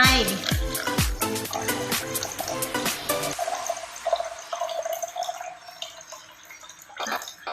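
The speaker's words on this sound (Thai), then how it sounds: "คุณครูจะเทน้ำลงไป" Water poured into a drinking glass during a classroom demonstration, first a bright, bubbly splashing, then a softer, steady trickle that thins out toward the end.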